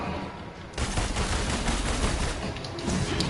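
Sustained gunfire rattles in the video game Marvel's Avengers. It comes as a dense, continuous burst of rapid shots that starts abruptly after a short quieter lead-in and stays loud and close throughout.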